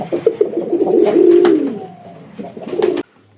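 Close cooing of Raj Golla pigeons, a rolling throaty burble that swells and then fades, ending abruptly after a few seconds.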